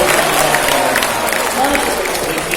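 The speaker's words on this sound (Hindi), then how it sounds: "बेटा जोरदार ताली" An audience claps and calls out at a live ghazal poetry recital, a loud, continuous roar of applause with voices mixed in, heard close and full throughout.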